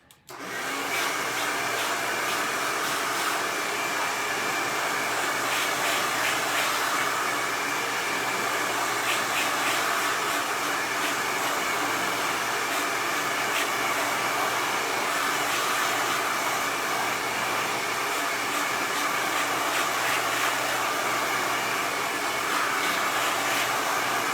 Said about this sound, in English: listen to me blow dry this for a couple seconds